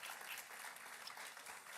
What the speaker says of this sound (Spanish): extendemos un fuerte aplauso y un abrazo para nuestra familia de Iglesia en Casa